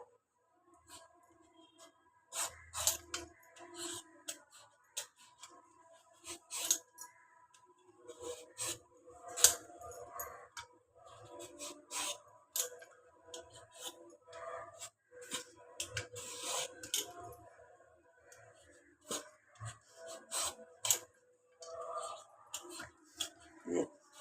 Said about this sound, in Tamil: மாங்காய் இருக்கிற தோலெல்லாம் சீவி எடுத்துக்கலாங்க